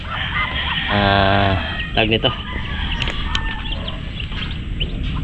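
Ducks being let out, ten healthy birds, give a few short honking quacks in quick succession near the middle, loud and close, over steady background noise while a person keeps talking.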